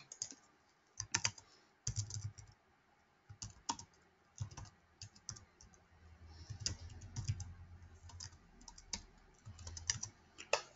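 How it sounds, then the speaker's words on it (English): Computer keyboard typing in irregular bursts of sharp clicks, fairly quiet and close, with brief pauses between runs of keystrokes and no talking. "actually let me type this."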